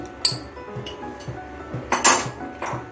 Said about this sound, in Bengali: এখন আমি সাবুটাকে অনবরত নেড়ে চেড়ে ফুটিয়ে নিচ্ছি।